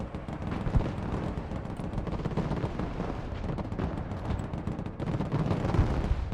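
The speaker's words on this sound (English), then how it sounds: "mortar's doing this job" Heavy battlefield barrage from mortar fire in the Broken Arrow war game, a dense continuous rumble of overlapping booms and blasts that stays loud through the whole stretch, with no voices.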